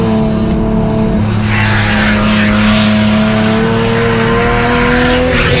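A BMW race car roars past on a circuit during a performance parts race series, loud engine drone with shifting pitch and brief tire squeal.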